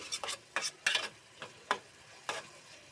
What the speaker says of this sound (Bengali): তারপর একটু নেড়েচেড়ে দেব।